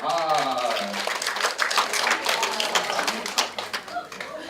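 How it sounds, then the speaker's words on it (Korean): A small audience at a school admissions briefing gives a short burst of scattered hand clapping that mixes with a presenter's voice, moderately close and fading within a few seconds. "박수 한번 쳐주시죠."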